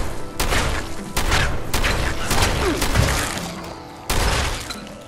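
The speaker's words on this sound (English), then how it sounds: "Combat shotgun. Combat shotgun." Repeated loud blasts from a combat shotgun in Fallout 76, about seven heavy booming shots spaced irregularly over several seconds, each with a sharp attack and a rumbling tail amid other game noise.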